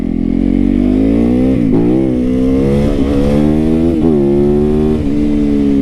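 A Japanese sport motorcycle, refined like a track bike, rides loud and close along country neighborhood roads, its engine note rising and falling through several revs and gear changes.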